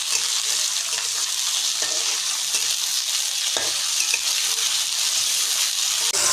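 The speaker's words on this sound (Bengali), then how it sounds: "ইলিশ মাছের মাথাগুলো একটু তেলে ভেজে নেবে" Hilsa fish heads, cut into small pieces, fry in hot oil with a steady, loud, dense sizzle that holds throughout, broken by an occasional stir or scrape near the end.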